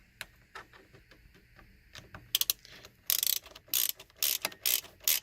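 A ratchet tightens Torx bolts during a horn repair on a 1999 Toyota Sienna, giving close, quick bursts of sharp clicking that grow louder and come in short repeated strokes.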